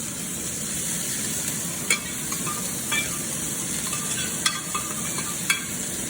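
Cajun chicken fries in a hot pan with a steady, close sizzle, broken by a few faint clicks and taps from stirring or turning the pieces, and no voices.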